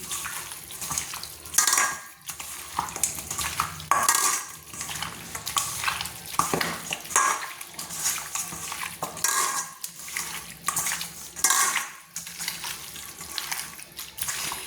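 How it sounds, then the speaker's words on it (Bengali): Hatchery chicken pieces being mixed by hand with salt and chili powder in a metal bowl, wet squelching and stirring with clinks of the pot in irregular bursts, close and moderately loud. "হ্যাচারি মাংসটাকে ম্যারিনেট করে নিচ্ছি"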